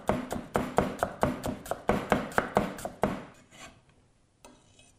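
A knife finely slicing red pepper on a chopping board, about a dozen quick crisp taps in a steady rhythm, close and clear, then slowing and fading to a few soft scrapes.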